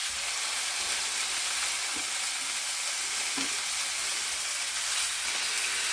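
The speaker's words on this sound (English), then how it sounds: "So now I'm going to put the steaks in the cast iron pan." Steaks sizzle in a hot cast iron pan with a loud, steady frying hiss and a couple of faint knocks, close and continuous throughout.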